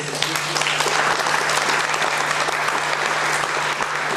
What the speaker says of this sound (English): big round of applause for Rex, please